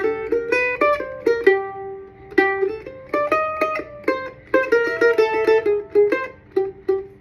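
A solo mandolin plays a blues lick in C, bright plucked notes in quick rhythmic phrases with short pauses and tremolo-like repeated picking, clear and close.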